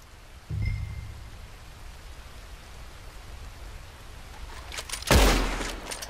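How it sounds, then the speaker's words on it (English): Gunshots during target practice in the video game Red Dead Redemption 2: two booming shots several seconds apart, the second louder with a lingering crackling tail, over a steady rain-like background hiss. "I'll shoot a few more this time."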